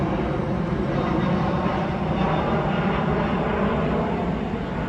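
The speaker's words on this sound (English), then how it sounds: "We'll admire the flight coming in." A plane coming in to land near Frankfurt airport, a loud, steady broadband roar of jet engines overhead that holds without a break, with no voices.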